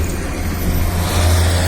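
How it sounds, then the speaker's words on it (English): City buses roll past on a Cleveland bus lane, a loud, steady low engine rumble with road noise that holds unbroken for the whole stretch, with no voices over it. "Let's get that last line again after these buses go through."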